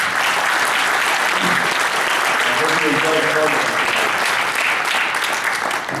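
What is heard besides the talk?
applause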